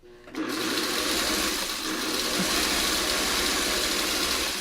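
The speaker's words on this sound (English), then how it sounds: "And here, I'll just sew this one." A sewing machine runs a quarter-inch straight seam on a pine-tree quilt block, starting after a brief pause and then whirring steadily and loudly at close range until the end.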